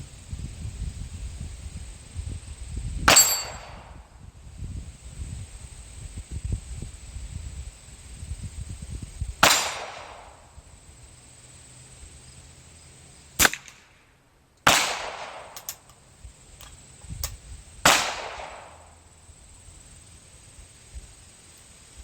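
Sharp gunshots from a J. Stevens 44-1/2 rifle firing .22 LR rounds outdoors, five or six loud isolated cracks spaced several seconds apart, some with a short decaying tail, over quiet rustling background.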